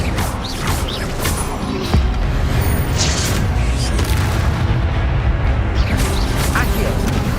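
Booming fire-spell blasts and combat impacts from Hogwarts Legacy against brutes, loud and continuous. A voice shouts spell incantations over the din.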